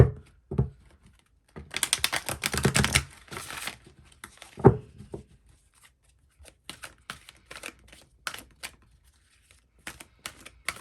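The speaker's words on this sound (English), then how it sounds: "I want to shuffle this one more time." Several bursts of soft papery riffling and snapping as a deck of tarot cards is shuffled by hand, with quiet taps and rustles between, close up and no talking.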